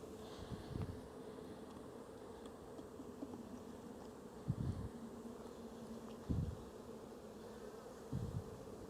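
Honeybees hum in a steady, faint drone while a hive frame is moved into a split hive, with a few soft knocks of wooden frames breaking the buzzing.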